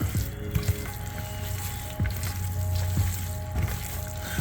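Shredded pulled pork being stirred together with barbecue sauce, giving a soft wet sizzling, squelching texture with a few duller scrapes, close and steady with no talking.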